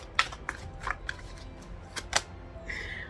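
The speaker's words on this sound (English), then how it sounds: "I'm going to shuffle." Tarot cards riffled and shuffled by hand in a few quick bursts of crisp flicking, close and quiet, with no talking.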